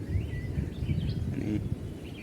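A paipida bird in rural forest sends out a few thin whistled notes, faint and somewhat distant, over low rumbling background noise.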